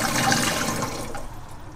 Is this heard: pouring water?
yes